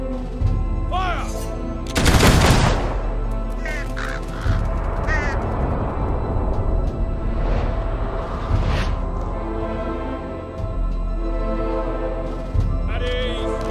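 A firing squad lets off a sharp volley of gunfire in Fable, one loud crack near the start followed by scattered shots, crow caws and ambient game sounds, with a voice speaking at times.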